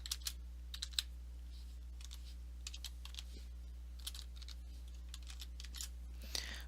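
Someone types a username and password on a computer keyboard: faint, close, irregular keystroke clicks in short runs over a steady low hum, with no talking.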